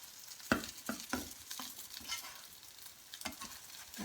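Leftover food fries and browns in a pan with a soft, steady sizzle, broken by several sharp scrapes and taps as it is stirred and turned, close up, with no talking.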